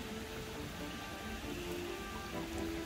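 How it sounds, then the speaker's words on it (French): Steady night rain hisses continuously at an even level, with no voices and no breaks in the sound. "Il fait nuit, il pleut toujours"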